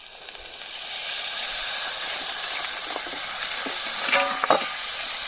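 Crabs sizzle and hiss in red masala in a wok, a steady close frying sound with occasional stirring clinks and scrapes.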